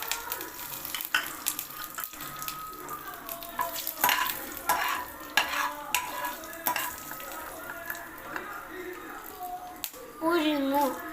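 Curry leaves and red chillies sizzle in hot oil for rice upma while a spoon scrapes and stirs the pan in irregular clatters, with a voice talking over much of it.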